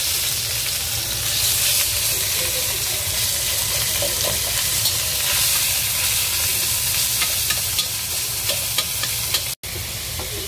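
Ground pork frying in a pan for mapo tofu, being stirred and broken up, giving a steady close sizzle with scraping and stirring clatter throughout, no talk.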